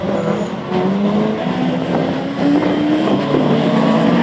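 A Peugeot 106 race car, number 4, roars through a Fol'car team competition in Mayenne, its engine loud and continuous with rising and falling revs as it accelerates and shifts.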